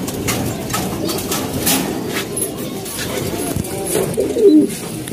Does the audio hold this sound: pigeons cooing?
yes